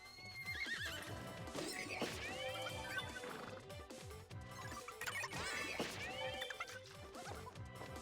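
Horses in the Miitopia video game whinny in loud, shrill, wavering bursts over a busy game soundtrack with clip-clopping hooves and thudding hits, two neighs standing out several seconds apart.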